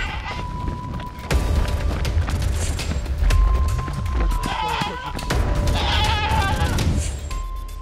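A goat bleating while a man carries it on his back and runs during a competition challenge, with repeated loud bleats over busy background noise and some voices.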